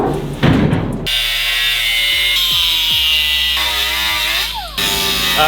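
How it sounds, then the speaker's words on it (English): A power cutting tool grinds through metal brackets welded to a truck frame, a loud, close, sustained whine that shifts pitch in several stages as the blade bites, with a scraping burst at the start. "all I'm really doing is taking a lot of care to just cut the metal right before the weld"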